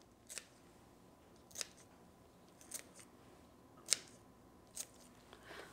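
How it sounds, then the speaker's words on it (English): Kitchen scissors snip green onion over a meatball bake, giving six crisp, separate cuts spaced about a second apart, close and fairly quiet with no talking. "So I'm just going to use my scissors and add some green onion."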